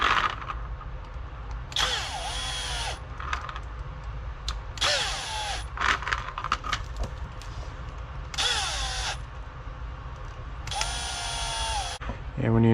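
Screws driven in to mount shocks on a Traxxas Rustler RC car, with several bursts of a whirring power driver between quieter handling noise and someone talking in the background.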